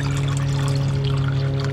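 Liquid plant food water pours gently and steadily into a nearly full container, a soft continuous splashing over a low hum, with no talking.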